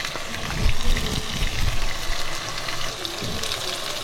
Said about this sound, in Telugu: వాటర్ పోసేసాను